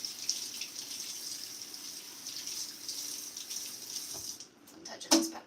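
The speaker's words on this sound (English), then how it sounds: "So I'm just gonna rinse it off" Water runs steadily from a kitchen tap as a habanero pepper is rinsed, a constant close hiss that cuts off near the end and is followed by a few clinks.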